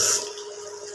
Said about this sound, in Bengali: এবার দেবো বন্ধুরা একটু গোলাপ জল আর কেওড়া জল।